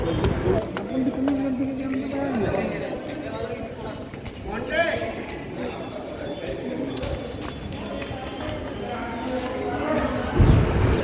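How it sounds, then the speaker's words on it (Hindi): Rhythmic clip-clop hoofbeats like horses walking sound under steady background chatter and voices at a gate of Agra Fort, India, with people talking nearby throughout. "आपको ये आवाज़ सुनाई दे रही है जो घोड़े जैसी,"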